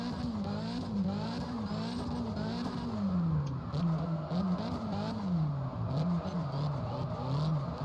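A Nissan S15 drifts in CarX Drift Racing 2 on a rain-soaked track, its engine note steadily rising and falling as the throttle is worked, with continuous tire noise throughout.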